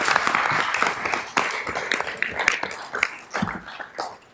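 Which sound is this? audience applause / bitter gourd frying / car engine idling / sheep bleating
audience applause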